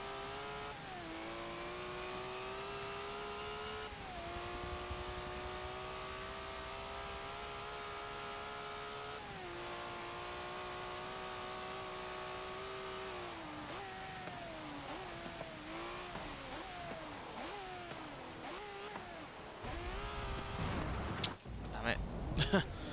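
A prototype race car in Forza Motorsport 7 driving a wet track, its engine whining steadily through gears with repeated upshifts, then lifting, downshifting and revving unevenly as it brakes, with a commentator talking over it.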